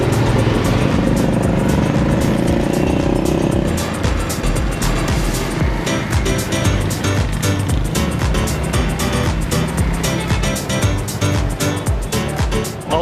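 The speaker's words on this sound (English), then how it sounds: "it's a motorbike connected to a cart." A loud motorbike engine pulling a cart drones steadily throughout, rumbling with road noise and rattling, riding along a street in Lahore, Pakistan.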